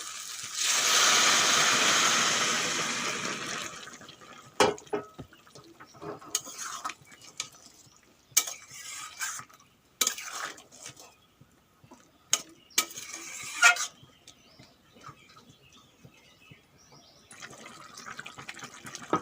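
Hot water pours into a pan of soybean and chickpea curry with a loud, rushing hiss that lasts a few seconds. Scattered clinks and knocks of utensils against the pot follow.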